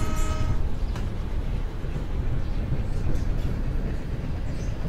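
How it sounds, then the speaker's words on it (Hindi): A train rolls along the track in the video game Train Simulator 2, giving a steady, loud mechanical rumble with faint clatter and a brief high horn-like tone near the start. "ट्रेन ने अभी अपनी स्पीड नहीं पकड़ी है।"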